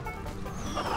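Chicken clucking in the video game Neverwinter, a short burst of close, clear clucks over faint game ambience.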